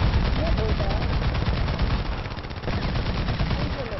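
Rapid automatic fire from the War Thunder tank game rattles nonstop, dense and loud, with a slight dip in intensity midway before resuming at full force.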